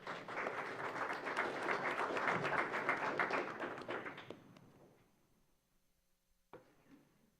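Dense applause fills a city commission meeting hall for about four seconds and then fades to a quiet room, with one sharp knock near the end.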